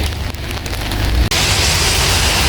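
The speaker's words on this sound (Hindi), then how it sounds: "हो रही है जी अभी भी ज़ोरों की बारिश, फिर तेज़ हो गई है।" Heavy rain pours down steadily and loudly, a dense close hiss of drops hitting surfaces that grows thicker partway through, with no talk.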